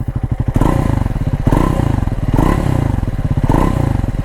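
A Triumph Scrambler 400X motorcycle engine idles nearby with a loud, lumpy, chugging pulse, swelling slightly in regular waves about once a second.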